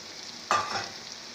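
Pre-fried eggplant hitting hot masala in a pan for bhindi gosht, giving one sudden sizzle and stir at the start that settles into a soft, steady frying hiss, with no talking.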